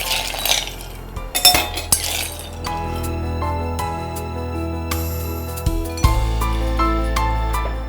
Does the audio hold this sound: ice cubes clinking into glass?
yes